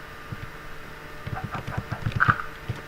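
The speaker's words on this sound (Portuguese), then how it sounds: "Opa, galinha tá aqui." Chickens clucking in a blocky survival sandbox PC game on Steam, a series of short soft clucks with a few sharper calls, moderately close and alone without talk.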